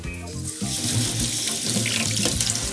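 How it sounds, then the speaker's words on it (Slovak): Tap water runs steadily into a kitchen sink as millet grains are rinsed, a continuous close splashing rush with no talk. "Pšeno prepláchneme vodou."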